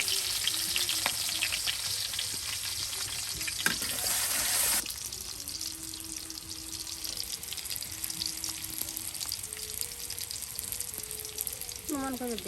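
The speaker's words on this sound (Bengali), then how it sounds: "এখন পেঁয়াজের কুচি দিয়ে কিন্তু তেলে এই যে ভেজে নেওয়া হচ্ছে" Chopped onion fries in oil in a village kitchen, a steady fine sizzle with faint stirring scrapes, a brief louder hiss early on and a quiet voice speaking intermittently in the background.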